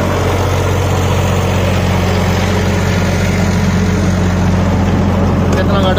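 A Sonalika DI 35 tractor engine runs steadily while driving a 7-foot rotavator, giving a loud, continuous low diesel drone throughout with no break.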